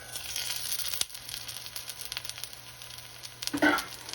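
Vietnamese crispy pancake (bánh xèo) with bean sprouts frying in a pan, giving a soft steady sizzle with light crackle and a brief louder burst of spatter near the end.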